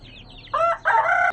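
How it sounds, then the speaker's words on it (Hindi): Close calls from a rooster and hen: a short squawk followed by a longer, louder cackling cry, with faint clucking before, no speech. "अब हम चूज़ों को बंद करते हैं, साथ में अपने मुर्गे को और मुर्गी को भी बंद करते हैं"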